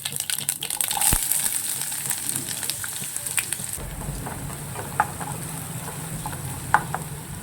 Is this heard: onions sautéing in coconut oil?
yes